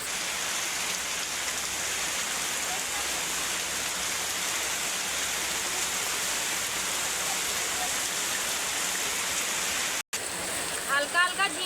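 Heavy rain pouring steadily, a dense, loud hiss of drops on surfaces that continues without pause, briefly cut near the end before a voice begins speaking.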